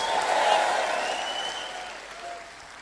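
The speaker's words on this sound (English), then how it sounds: "Everybody clap. Come on, men, clap with me." A church congregation claps along during a sermon in Papua New Guinea, producing a dense, steady wash of applause that swells early and slowly fades, with voices audible through it.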